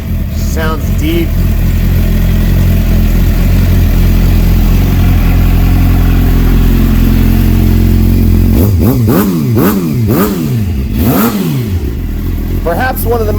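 A 2008 Suzuki GSX 600 R motorcycle with a Yoshimura exhaust idles with a deep, throaty rumble, then revs hard several times in quick succession, each rev rising and falling sharply, close and loud.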